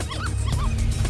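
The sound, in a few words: puppies yipping in the Ruff Trigger video game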